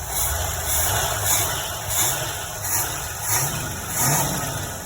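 A car engine freshly fitted with a new Holley carburetor runs close by, a steady mid-pitched drone that swells in gentle revs roughly every second, with no talk.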